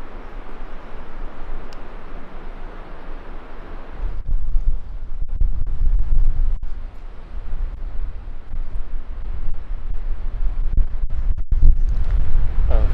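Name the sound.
strong wind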